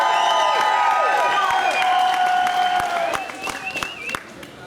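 A rain-soaked crowd at the 2014 World Superbikes paddock show at Donington cheers with high whistles, shouts and scattered clapping, loud at first and then thinning into a few sharp claps.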